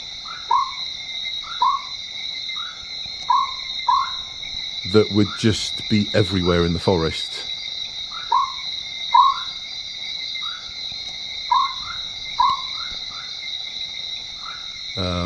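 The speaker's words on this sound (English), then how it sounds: "The frog itself is only native to Montserrat and Dominica, nowhere else in the Caribbean." Frogs of a species found only on Montserrat and Dominica repeat bright chirping calls at a steady pace in a forest, over a constant insect drone, while someone talks briefly in the middle.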